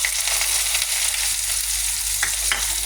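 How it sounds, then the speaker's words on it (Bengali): Onion and whole cumin seeds fry in hot oil in a pan with a loud, continuous sizzle and crackle, plus a few brief stirring scrapes, and no voices. "তাড়াতাড়ি পেঁয়াজটা ভাজা হয়ে যায়"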